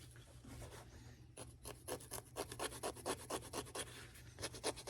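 Darkened suede on a pair of Alden Indy boots is scraped to lift the nap, producing quick, rhythmic rasping strokes close to the ear. The strokes come faster and stronger in the second half, with no talking.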